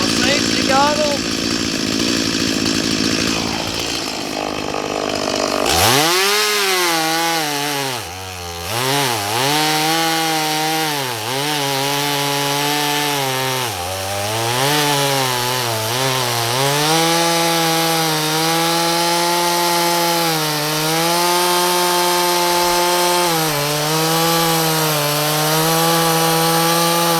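A loud chainsaw drones continuously, its engine pitch dipping and rising as it bites into wood, close and dominant throughout.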